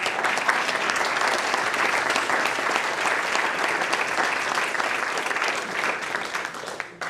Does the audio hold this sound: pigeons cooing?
no